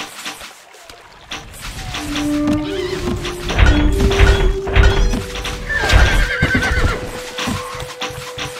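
Horses neigh and gallop in the medieval strategy game Stronghold Crusader, a loud whinny rising over rapid thudding hooves, with game music tones and in-game voice lines layered on top.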